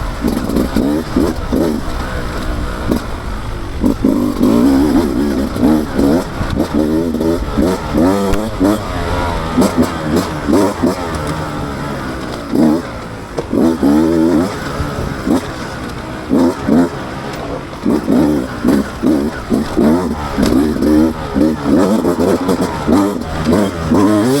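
A 2024 Beta 200 RR Race Edition enduro motorcycle engine revs hard and repeatedly, loud and close, rising and falling in quick bursts throughout, with a faint voice briefly underneath.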